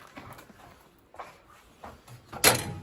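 Side door of a New Holland skid steer swinging open, a few close knocks and clunks of the latch and hinges ending in one louder bang.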